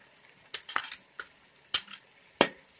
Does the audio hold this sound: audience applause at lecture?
no